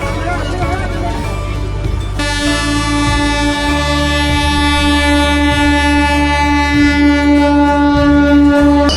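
A crowded passenger train on a Kumbh Mela pilgrimage rolls toward a station platform, its steady rumble overlaid early on by a long, loud sustained horn tone that holds to the end, with a busy carriage din around it.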